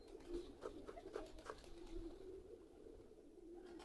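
Pigeons cooing near a coop while being fed: soft, low, repeated coos from several birds, close but quiet, over a faint rustling background with no talking.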